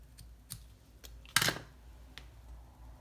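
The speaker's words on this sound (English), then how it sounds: "So I'm just gonna cut a little bit off here." Scissors snip through a piece of ribbon in one crisp, close cut, preceded and followed by a few light clicks and taps in a quiet room.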